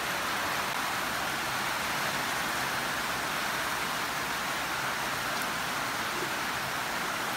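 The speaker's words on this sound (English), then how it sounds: "Look, guys, rain." Steady rain falls outdoors at a cookout, a constant, even hiss with no voices heard over it.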